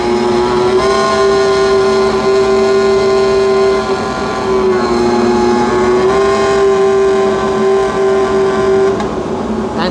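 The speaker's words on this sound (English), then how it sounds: "Charles Leclerc's Ferrari has been fired up and just being put through the revs." A Ferrari Formula 1 car's engine is revved in the garage at the Belgian Grand Prix, a loud, sustained high-pitched scream held through several throttle blips and dips, with nothing else over it.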